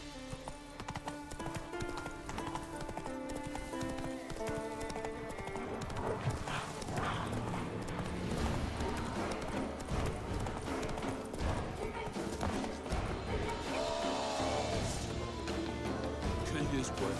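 Roach the horse trotting in The Witcher 3, steady clip-clop hoofbeats with an occasional whinny, layered under a game music score and a voice speaking.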